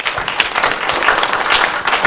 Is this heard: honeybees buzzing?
no